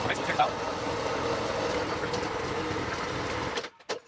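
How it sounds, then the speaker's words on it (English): A Yard Force 21-inch front tine garden tiller engine runs steadily with its tines spinning, a continuous mechanical drone heard up close before it cuts out near the end, followed by a couple of brief knocks. "I'm going to pull the lever on the handle so you can see the tines spinning."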